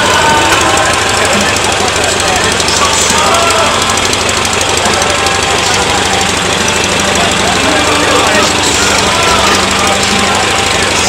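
Ford Model T engine, around 1914 to 1919, running loud and close with a dense, rapid knocking chug that holds steady throughout, with voices partly buried under the noise.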